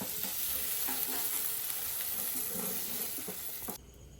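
Paneer pieces grill in a hot pan with a steady, loud sizzle and crackle that carries on for several seconds before cutting off abruptly near the end.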